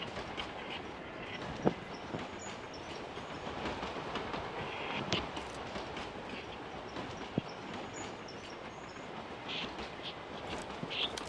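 Moving train in a video game, a steady rumbling roll with rhythmic clickety-clack from the wheels and a few sharp clanks, continuous and fairly close throughout.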